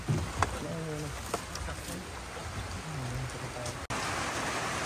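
Heavy rain falls at night in Batangas, a dense, steady hiss of downpour that stays continuous throughout, with faint voices briefly audible beneath it.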